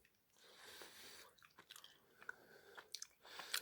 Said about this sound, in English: Just chomp right through it.